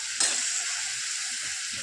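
Green chickpea leaf vegetable sizzles steadily in a hot pan, a continuous bright hiss with a brief louder burst near the start, no talking.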